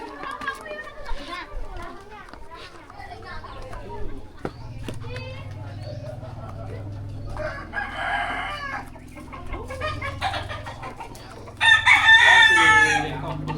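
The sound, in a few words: roosters crowing at cockfighting camps in Bali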